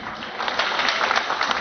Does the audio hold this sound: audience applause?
yes